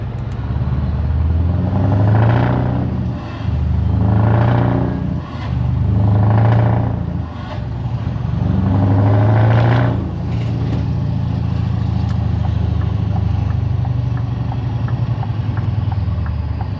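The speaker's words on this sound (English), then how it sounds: "I hope you can hear the exhaust sounds properly" A deep V8 exhaust on a Scania R500 truck rumbles loudly in repeated revving surges, each swell rising and dropping, then settling into a steady low idle burble.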